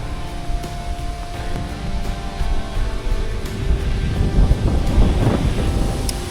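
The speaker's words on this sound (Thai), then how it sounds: "เย็นแล้วลมแรงมากครับ" Strong evening wind buffets the microphone on a mountain glass skywalk, a loud, gusty low rumble that swells and grows rougher toward the end.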